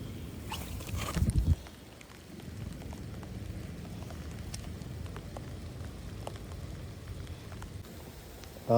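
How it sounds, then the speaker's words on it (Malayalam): Rain falls steadily on water and surfaces at a fishing spot, a soft continuous patter with a brief louder knock and rustle near the start. No one speaks. "ആ മഴ കൂടിയിട്ടുണ്ട് കേട്ടോ."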